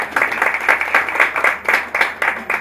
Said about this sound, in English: Please, can you clap for her?